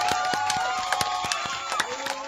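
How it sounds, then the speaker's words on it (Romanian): Electronic applause effect played on a radio show, a dense crowd-style clapping and cheering texture with sharp repeated claps, fairly loud and steady throughout, with a voice briefly present. "să-ți oferim și ție niște aplauze electronice."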